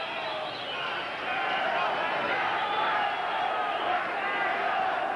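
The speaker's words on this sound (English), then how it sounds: "Crowd roaring as the two come out of their corner." A boxing arena crowd roaring as round 11 begins in the Luisito Espinosa vs. Juan Carlos Ramirez fight, a steady broad swell of cheering that rises slightly after the first second, with a commentator talking over it.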